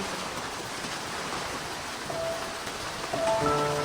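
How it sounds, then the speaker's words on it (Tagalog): Light rain patters steadily in a park in Taiwan during a typhoon, a soft even hiss with a few faint tonal chirps of background sound toward the end. "Hindi malakas ang ulan dito."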